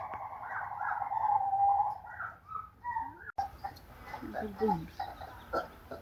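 A gibbon calls from a cage at a zoo, its rising and falling whooping hoots carrying at moderate distance, followed by softer yelping notes amid outdoor background noise and faint voices.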